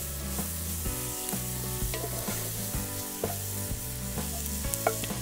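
Onions frying until brown in a big pot for a fish curry cooked in a van, steady sizzle with regular scraping stirs and faint clinks, but strong low tonal background hum underneath.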